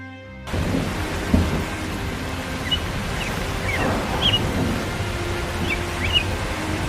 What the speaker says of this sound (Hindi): देखा बिजली, बारिश हो रही है